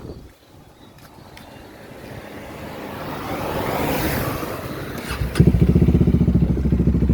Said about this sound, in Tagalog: sound check muna po tayo sa aking Dominar 400cc. Start tayo, start.